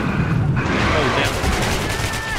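Rapid gunfire from the video game Metro 2033 Redux, dense automatic bursts and booming shots filling the whole stretch, loud and close with chaotic combat noise.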